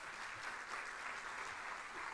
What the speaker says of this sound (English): let us, with a rousing round of applause, welcome the Group Executive Operations and Technology, Dr. Thomasin Fashina